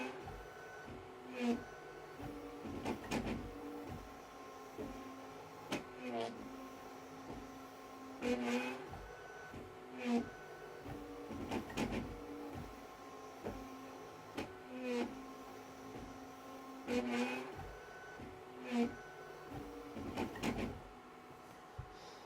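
A BQ Hurakan bed-slinger 3D printer runs a high-acceleration speed test, giving repeated rapid whirring and clattering bursts of stepper motion with sharp jolts, moderately loud and continuous without speech.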